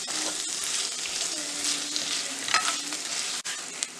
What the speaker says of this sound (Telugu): లో ఫ్లేమ్లో పెట్టుకొని ఫ్రై చేసుకోవాలి